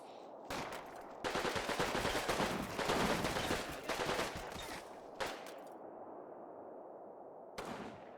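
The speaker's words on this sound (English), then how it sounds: "Now they're just going to shoot back and forth at each other across the street for a little bit." Sustained bursts of automatic gunfire exchanged across a street in the World War II game Combat Mission Final Blitzkrieg, loud and dense for several seconds, then breaking off into quieter ambience with a final short burst near the end.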